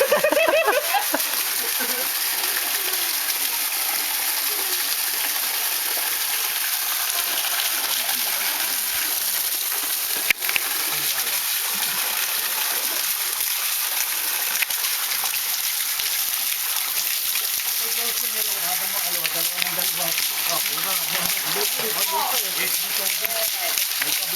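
Water splashing at a resort pool, a continuous hissing spray that runs throughout, with people talking and calling out over it.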